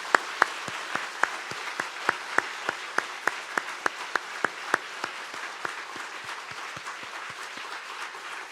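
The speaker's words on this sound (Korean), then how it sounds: "다 같이 영광의 박수 올려드립시다." Church congregation clapping together in worship at a Korean church's sixteenth anniversary thanksgiving service, a steady rapid wash of many hands with sharper individual claps standing out, sustained and fairly close throughout.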